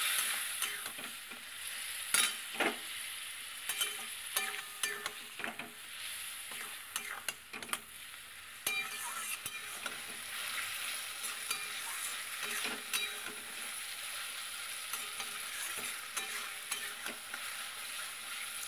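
Spices cook down with puti fish in a pan, a spatula scraping and stirring in irregular bursts over a continuous oily sizzle, close and fairly loud, with no one talking.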